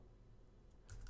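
A few quick keystrokes tap on a computer keyboard while a Linux command is typed, a soft burst of clicks arriving near the end after a quiet pause.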